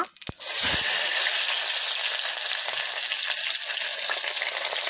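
Cumin seeds dropped into hot oil in a cooker burst into a loud, bright, continuous crackling sizzle right after a few clanks, staying close and steady throughout.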